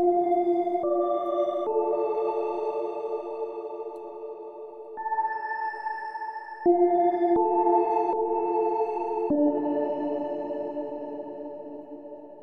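A synthesized bell-like pad, a Serum preset called Atmospheric Bell, plays sustained, shimmering chords that shift every few seconds, ringing with a soft, airy tail.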